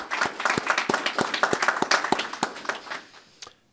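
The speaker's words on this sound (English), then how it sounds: "if we could give them a round of applause" Audience at a community development week event gives a round of applause, a scattered, moderately loud burst of hand clapping that builds briefly and then thins out and fades.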